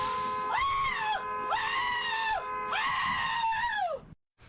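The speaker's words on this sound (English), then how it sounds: "The screams of an Iredell Statesville school bus driver as a child comes within inches of being hit by a car" An Iredell-Statesville school bus driver screaming as a child is nearly hit by a car: three long, loud, strained wails in quick succession, each rising and falling, with traffic noise underneath.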